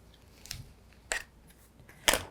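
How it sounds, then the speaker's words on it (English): Cutting fabric quilt blocks with a rotary cutter for a pieced table runner, three short, close crisp cuts spaced about half a second apart in a quiet room. "Let's cut again."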